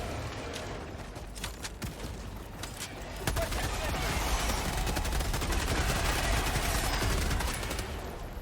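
Dense, sustained rapid gunfire from Helldivers 2 combat, rattling bursts close and loud that intensify midway and keep going without pause.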